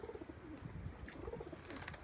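Pigeons coo softly in a low, repeated murmur while crowding into a cooking pot to bathe, the calls close and steady throughout with no talking.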